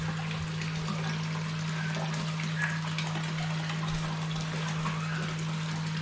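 Water splashing and trickling as a young fish is handled in a river, a quiet watery rustle with small splashes over a steady low hum, no speech.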